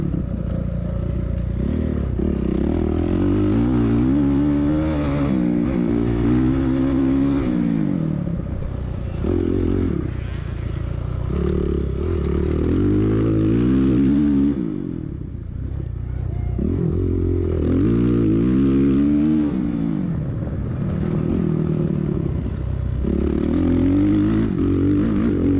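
A dirt bike running a lap of a sprint cross course at Whispering Willow Farm, its engine loud and close, revving hard and dropping off repeatedly through turns and straights for the whole stretch.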